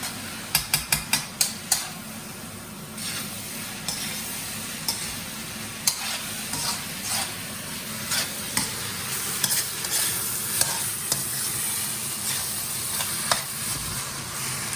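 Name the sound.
shrimp and vegetable fried rice sizzling in a wok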